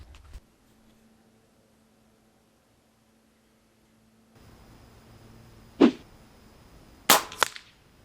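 An air rifle, a Benjamin Marauder firing 33-grain JSB Exact King Diablo pellets at a target, gives two sharp, close cracks a little over a second apart, each followed by a quick snap, between stretches of near silence and faint hum.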